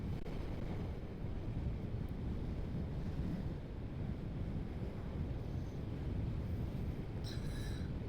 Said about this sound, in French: Il y a du vent là en ce moment.